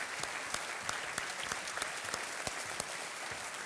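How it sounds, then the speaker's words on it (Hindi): Studio audience on the Kaun Banega Crorepati quiz show applauding a winner, a dense, even burst of many hands clapping at once, steady and continuous from start to finish. "तालियों के साथ इनका अभिनंदन।"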